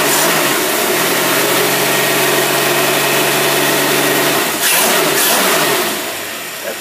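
A car engine idling in neutral during a no-load test with the alternator connected, a steady loud hum that shifts briefly near the end, no talking.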